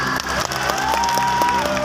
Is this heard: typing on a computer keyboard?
no